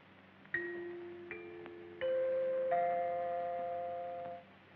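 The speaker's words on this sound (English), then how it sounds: "when you hear the sound of the chime, the time will be 12 o'clock, midnight, Pacific Standard Time." A radio time-signal chime marking midnight rings out as a series of clear bell-like tones, each struck note sustaining and overlapping into a ringing chord that slowly fades, heard alone in an old 1932 film soundtrack.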